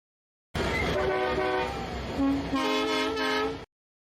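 A train sound effect plays as a stream alert, a loud blaring horn chord with rumbling rail noise that starts and stops abruptly, lasting about three seconds.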